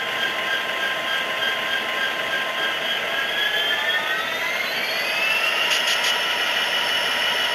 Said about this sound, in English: We can rev the engine up.